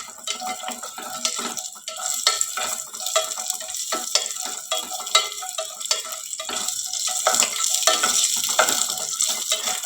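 Stirring and frying in a pan while making wheat payasa, with continuous crackling sizzle and scraping stir strokes, steady and fairly loud without any talk.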